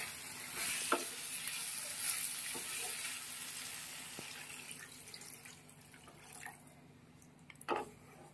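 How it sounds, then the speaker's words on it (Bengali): Water poured into a simmering fish curry with ridge gourd and eggplant, a soft running pour over a low bubbling sizzle, with a few light clinks of a utensil, fairly quiet throughout. "এবার পরিমাণ মতো জল দিয়ে দেবো।"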